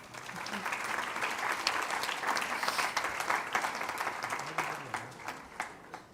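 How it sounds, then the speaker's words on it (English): A warm round of applause from an audience at a temple function, rising into a full patter of claps with a faint voice underneath before tapering toward scattered claps. "I think they deserve a wonderful round of applause"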